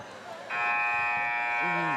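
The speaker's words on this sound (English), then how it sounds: "Buzzer sounds" A basketball buzzer sounds at a girls' high school game, a loud, steady electronic tone that cuts in suddenly and holds to the end. A voice starts speaking under it near the close.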